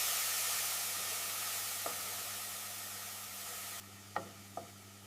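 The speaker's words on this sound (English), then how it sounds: "Patiently stir everything together." A tomato and onion masala with ginger garlic paste, cooking for a South Indian chicken curry, gives a steady sizzling hiss that drops away near the end, followed by a few sharp clinks of a spoon stirring in the pan.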